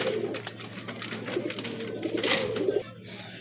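Large pigeons kept in pairs in a coop, cooing with soft repeated low murmurs close by over a steady background hum.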